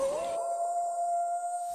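A single sustained howl, wolf-style, opens a segment of a mobile esports broadcast; one steady tone holds for nearly two seconds, loud and clear, after a brief swelling start.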